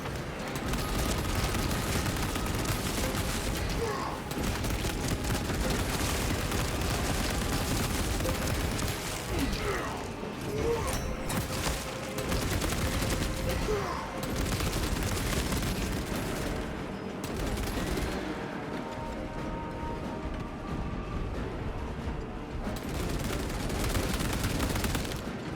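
Sustained heavy bolter fire from a Raven Guard in Space Marine, a dense, continuous roar of rapid gunfire and blasts that shreds Tyranid hordes, loud and close, with brief lulls and no clear speech.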